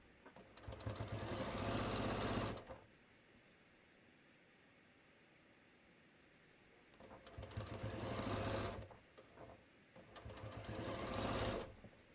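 A sewing machine stitches a cushion cover corner in three loud, close bursts of rapid mechanical whirring, separated by quiet pauses, with no talking.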